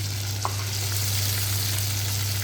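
Chicken boti pieces fry in oil with a continuous, even sizzle close by, steady throughout and without speech.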